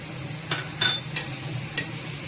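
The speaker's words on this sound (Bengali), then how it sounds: "এরপর আমি টমেটোটা দিয়ে দিলাম।" Tomato dropped into spice paste frying in a pan, giving a low steady sizzle with a few sharp clinks and scrapes of a spoon against the pan.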